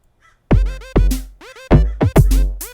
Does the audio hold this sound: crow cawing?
yes